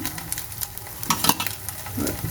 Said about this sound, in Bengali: পুড়ে না যায় কিন্তু লাল লাল হয়ে গেছে এই হালকা হালকা ভাজতে হবে